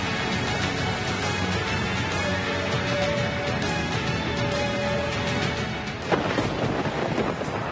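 Heavy rain pours down in a dense, constant roar with a low rumble underneath, loud and unbroken, with a faint tone and a brief knock near the end.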